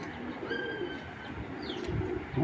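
Pigeons coo softly at close range, low murmuring calls over a steady background hum, with a faint chirp or two mixed in.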